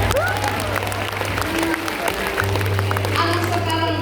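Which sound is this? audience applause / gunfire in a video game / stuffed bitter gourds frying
audience applause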